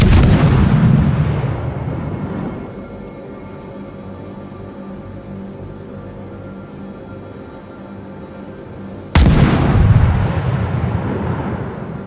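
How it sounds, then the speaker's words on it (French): French warship firing high-explosive shells in World of Warships, a loud deep booming salvo that rolls and decays into a low rumble, then a second heavy blast near the end, no voices. "il tire aux obus explosifs"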